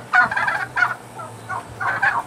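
Black Spanish turkeys on a farm give several loud, close gobbles in rapid bursts with short gaps between calls.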